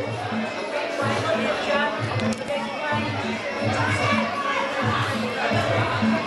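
Crowd noise at a C-class amateur boxing bout, a steady murmur of spectators with shouts and chatter filling the hall, though no distinct burst of cheering stands out; a commentator's voice runs over it throughout.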